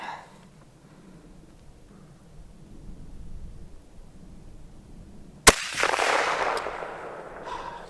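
A single sharp Mosin Nagant rifle shot cracks out outdoors, followed by a noisy rumbling tail, after a stretch of quiet background where a voice briefly talks.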